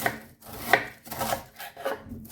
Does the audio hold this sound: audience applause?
no